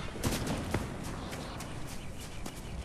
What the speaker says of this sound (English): people are shooting people up there